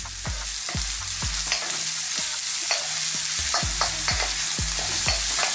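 Broccoli stalks and red chilli stir-fry over high heat in a loud, steady sizzle, with a regular rhythm of spatula scrapes and knocks against the pan, close up and with no talking.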